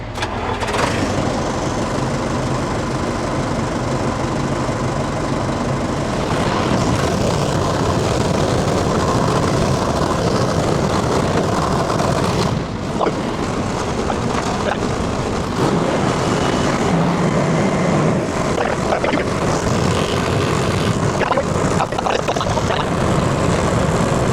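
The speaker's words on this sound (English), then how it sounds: "we're gonna fire it up and hope for the best" A Liebherr 934 material handler's diesel engine, fitted with a used hydraulic pump, starts and runs at a loud steady idle close by, its heavy drone continuing with little change throughout.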